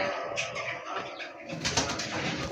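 A pigeon coos softly in low, repeated rounded notes at close range, with some rustling and fluttering-like noise toward the end.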